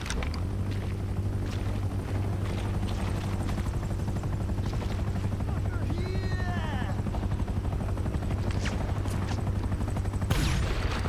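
A helicopter in GTA Online: a steady low rotor drone runs throughout, with rising whistles and scattered sharp bursts above it, ending in a sudden loud crack.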